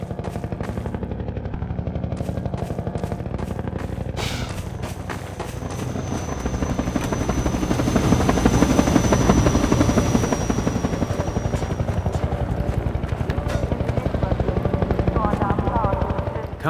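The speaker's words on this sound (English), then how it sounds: "Combine Attack Helicopter." A Combine Attack Helicopter in the video game Half-Life 2 roars with a pounding rotor drone that swells louder midway, with a whining tone, sharp bursts and clatter layered over the steady thrumming.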